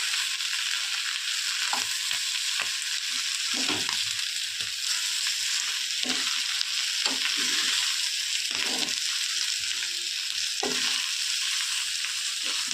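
Ground chili, cumin and coriander spices frying in oil in a pan for a Bengali chorchori with dried fish, a steady loud sizzle throughout, broken by repeated scraping stirs of a spoon, no talking.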